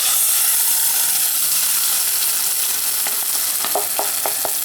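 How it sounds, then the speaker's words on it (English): A blended paste of tomato, pepper, onion, garlic and ginger fries in a saucepan with a constant loud hiss, and a quick run of light scraping stirs comes near the end. "And now my blended tomato, pepper, onions, garlic, ginger goes in the saucepan."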